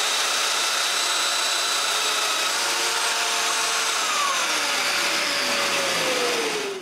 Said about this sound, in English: I will drill some domino mortises.